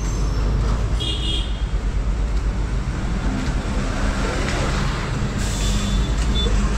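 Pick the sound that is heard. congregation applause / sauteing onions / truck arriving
truck arriving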